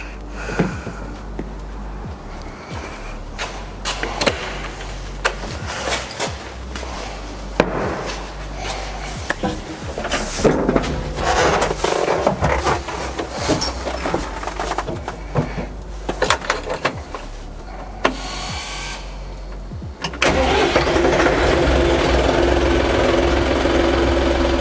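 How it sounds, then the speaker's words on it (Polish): An Arbos 2035 tractor engine cranks and catches with uneven knocking bursts, then settles into a steady, loud diesel idle. "teraz odpalimy ciągnik,"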